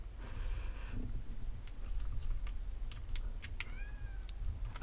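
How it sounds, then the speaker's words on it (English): A cat meows faintly from behind a door, giving a few short, distant cries over a low indoor hum, with light ticking and handling noises nearby. "If you hear my cat meowing"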